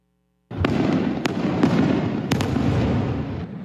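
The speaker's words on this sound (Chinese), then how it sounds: "也因为放的这烟火是高空烟火" Aerial fireworks set off at night for a celebration in Chiayi City burst in a loud, continuous barrage of crackling blasts, with several sharp reports standing out; silence before the show opens abruptly.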